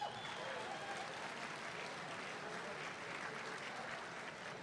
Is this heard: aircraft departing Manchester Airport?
no